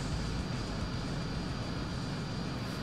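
A jet aircraft engine in Ace Combat 2, during a high-altitude chase, roars as a dense, continuous rumble with no gaps, heard alone.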